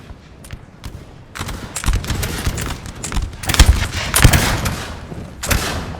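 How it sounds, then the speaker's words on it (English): Napoleonic-era musket volleys in Napoleon Total War multiplayer battle, ragged bursts of gunfire crackling in waves, some shots near and loud, others distant, building to heavier fusillades. "Spain is shooting its own troops with its second line"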